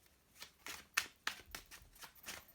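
Tarot cards are shuffled by hand in a run of quick, crisp riffles and slaps, several distinct bursts close to the listener with brief gaps between them.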